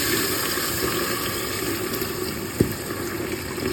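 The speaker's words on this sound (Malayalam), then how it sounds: "ഇനി നമുക്ക് പതുക്കെ പാലൊഴിച്ചു കൊടുക്കാം" Milk poured slowly into melted caramel while making caramel payasam, a steady, close liquid pour that runs the whole time, with one faint clink partway through and no talk.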